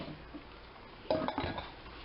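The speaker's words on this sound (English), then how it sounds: "I will just kind of pull slightly on it and make sure that it's sealed. And I replace the lids." Metal lids go back onto glass canning jars of fig jam, giving a sudden clink and a couple of short rattling knocks against faint kitchen background.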